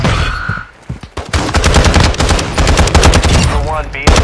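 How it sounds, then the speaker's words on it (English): Rapid automatic gunfire from Call of Duty Warzone 2, loud, dense bursts running almost continuously after a brief lull near the start, with a voice speaking faintly underneath. "Taking effective fire!"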